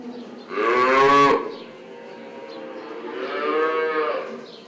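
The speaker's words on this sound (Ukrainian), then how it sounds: "Хіба що військові коровки і телят." Cows and calves moo inside a calf barn on a farm: two long, loud moos, one early and one later, with quieter barn ambience between and no talking.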